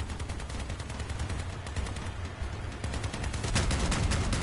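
Rapid bursts of automatic gunfire from several enemy armed vehicles in the vehicle combat game Crossout pour in continuously and loudly, layered into a dense, overlapping barrage.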